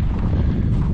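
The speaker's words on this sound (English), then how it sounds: "wind's just a blowing" Strong winter wind gusting at about 30 mph in sub-zero cold, buffeting the microphone with a loud, rough, steady roar during a short burst.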